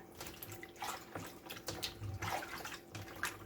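Water splashing and running from a cut-up turkey being drained, a broken, uneven pouring with small splashes and drips, close and fairly quiet, no talking.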